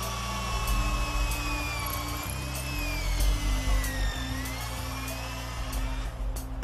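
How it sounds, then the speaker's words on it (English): Power drill boring an anchor hole into cave rock, a continuous whining motor with shifting pitch and rough grinding bursts, close and loud, stopping near the end. "20 feet up to where he'll drill in an anchor."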